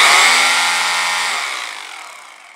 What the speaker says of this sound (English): It's called a rotary hammer, or a demo hammer.